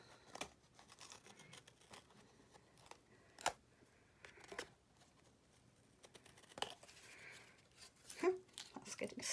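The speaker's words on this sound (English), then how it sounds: "we are simply going to trim any excess we have." Scissors trim excess paper from a handmade pleated skirt card in soft, scattered snips and crinkles, quiet and close against a near-silent background.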